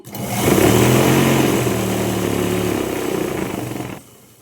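A sewing machine stitching a pant runs with a fast, close mechanical whir and hum that starts up quickly, holds steady for about three and a half seconds, then stops abruptly.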